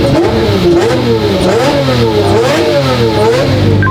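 A rare manual Lamborghini Murcielago, freshly rebuilt, revs loudly at start-up, its engine note rising and falling in repeated swells over a steady deep rumble, close and sustained throughout.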